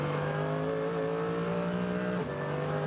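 Race cars, including BMWs, in a 24-hour Nürburgring qualifier drone past at high revs with a sustained engine whine, and the pitch drops sharply near the end as one shifts or lifts off.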